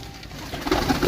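Pigeons coo in a soft, close cluster of low, murmuring calls, several overlapping over steady background hiss.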